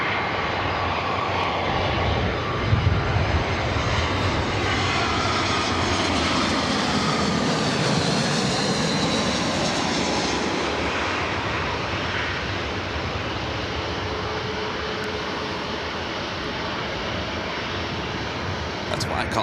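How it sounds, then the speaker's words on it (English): Jet airliners passing close overhead at Los Angeles International Airport, a loud continuous engine roar that swells and sweeps through pitch as the plane goes by, then slowly fades over about twenty seconds. "This is about as close as you're going to get to the planes here."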